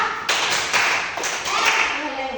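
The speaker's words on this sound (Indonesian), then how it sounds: "Tepuk dua ya toh? Tepuk dua." A classroom group with their teacher claps in short sharp bursts, several quick separate claps spaced through the moment, fairly close and moderately loud.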